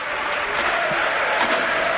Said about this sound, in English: The crowd trying to inject a bit of life into this one.